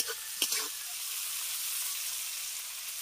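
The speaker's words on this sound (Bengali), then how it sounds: "চিংড়ি মাছগুলো ভেজে নিয়েছি।" Shrimp fry in hot oil in a village kitchen, with a steady, even sizzle that carries through the whole stretch, briefly broken by one short knock near the start.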